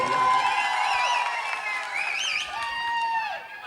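Crowd at a kabaddi arena clapping and cheering while someone sings loudly over it, the applause a continuous wash beneath the strong voice.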